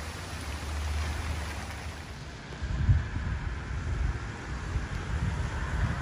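Rain patters softly and continuously at an outdoor antique show in Round Top, Texas, mixed with low rumbling wind noise and a brief louder gust partway through.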